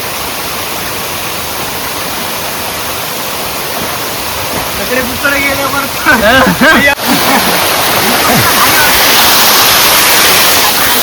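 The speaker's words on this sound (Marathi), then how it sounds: "मंडळी बघला असता धबधबो हिडन धबधबो गावात आम्ही शोधू दिलं होतं" A hidden waterfall in a village pours in a steady, loud broadband roar throughout, while several people talk over it partway through.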